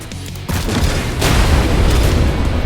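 A railgun called Sparky fires in a tank video game, a heavy boom striking in at the start followed by a sustained loud crackling, rumbling roar that builds and holds without pause.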